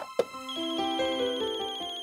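A telephone rings in a home scene from a Hindi family drama. A short knock comes first, then a loud electronic ringtone repeats its melodic tones steadily, with no talking.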